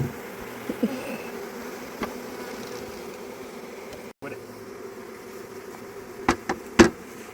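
Honey bees leave their box at a homestead hive, producing a steady close droning buzz throughout, with a few brief knocks and handling noises near the end.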